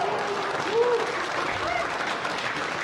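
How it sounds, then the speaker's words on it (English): An audience at a stand-up comedy show applauds steadily throughout, a moderate patter of clapping with a few faint voices rising over it. "I don't know why you're applauding."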